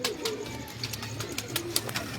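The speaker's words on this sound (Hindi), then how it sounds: "ये भी फिरोजपुरी कबूतर कह लें आप इसको, ये गैस वाली मादा है।" A Ferozpuri pigeon, a female, coos softly nearby in low, rolling calls amid faint background noise, with no one speaking.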